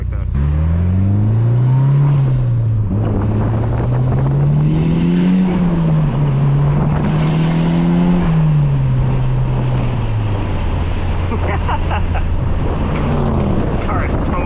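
A Mitsubishi Evo 8 with a Link ECU swap and a screamer pipe drives loud and close, its engine note rising and falling through repeated revs and gear changes before settling into a steady drone.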